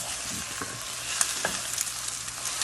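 Food sizzles steadily in a pan, a soft continuous hiss with faint scraping and stirring clicks, fairly quiet and close; one brief word is spoken.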